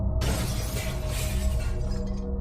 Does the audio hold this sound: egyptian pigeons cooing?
no